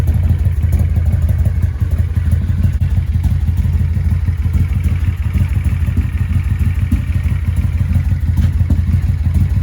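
A Honda VT1100C3 motorcycle engine idles steadily, left running to drain the fuel line, with a loud, constant low rumble and a dense rapid clatter of firing pulses throughout.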